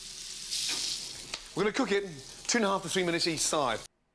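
Steady sizzling of steak frying in a hot pan, with a person talking over it through most of the clip.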